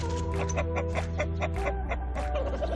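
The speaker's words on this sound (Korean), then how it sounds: "태양이는 동물적인 감각으로 싸울 가치도 없는 다른 수탉들은 그냥 내버려두고 자신의 자리에 위협이 될 수 있는 골드를 견제하고 있다" Several roosters cluck in short, repeated bursts, fairly close and loud, with overlapping calls over a steady low background hum.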